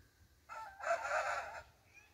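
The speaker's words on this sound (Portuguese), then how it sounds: "o galo tá mandando a gente se levantar" A rooster crowing at dawn, one drawn-out crow heard at moderate distance over a quiet, low ambient background.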